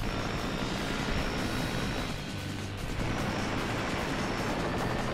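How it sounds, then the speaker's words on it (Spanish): Apache attack helicopter in a combat video game, a steady loud rotor and engine roar that fills the scene continuously, dipping slightly for a moment before surging back. "Sabía que era un helicóptero Apache."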